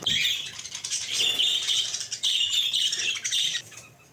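Caged birds chirp and tweet busily at close range, with rapid high-pitched calls and some fluttering, continuing for several seconds with no talking.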